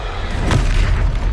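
A Levioso spell cast in Hogwarts Legacy bursts out as a loud, full-bodied magical whoosh and boom, one dense surge that swells near the middle and rumbles on for over a second with no talking.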